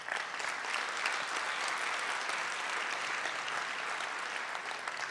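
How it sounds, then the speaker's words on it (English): At the ZeroCon19 opening ceremony, a large audience applauds Microsoft's Jenny Lay-Flurrie with a broad, even wash of clapping, steady and moderately distant, lasting about five seconds without a break. "a huge round of applause for Jenny Lay-Flurrie from Microsoft again"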